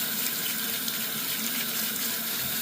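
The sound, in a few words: rinsing chicken parts under running tap water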